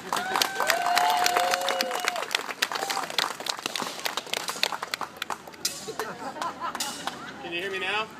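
An outdoor Renaissance fair crowd claps and cheers after a juggler's trick, scattered bursts of applause and calls mixed with voices, the performer speaking over the crowd at the start.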